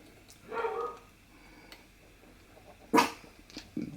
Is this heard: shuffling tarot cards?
no